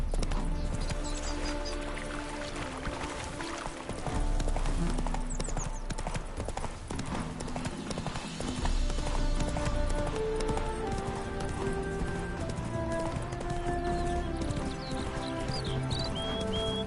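Hoofbeats of the horse Roach galloping in The Witcher 3: Wild Hunt, a steady loud clip-clop rhythm running throughout over game music and ambience, with a brief whinny.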